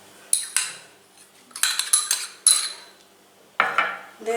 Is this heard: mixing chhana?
yes